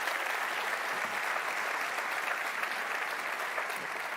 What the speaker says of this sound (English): just another round of applause to say thank you so much